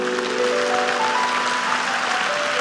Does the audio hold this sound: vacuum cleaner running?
no